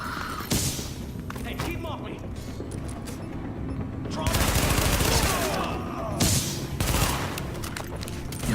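Bursts of rapid gunfire in The Division video game, with loud crackling volleys between stretches of game sound and a voice speaking over parts of it.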